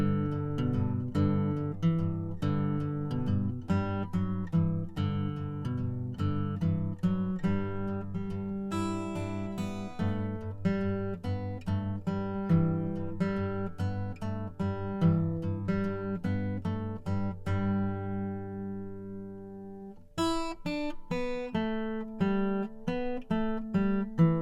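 Guitar plays a part from a song, with a continuous picked, arpeggiated chord pattern sounding alone, close and steady, and a short break before the phrase resumes.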